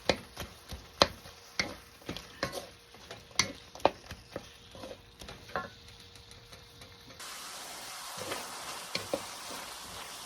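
Onion and tomatoes sauté in hot oil with a steady sizzle, punctuated by sharp clicks and taps of a utensil stirring the pan, the frying hiss growing louder and denser toward the end.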